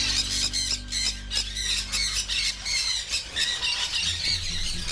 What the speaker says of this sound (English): This is called the yellow-sided green cheek.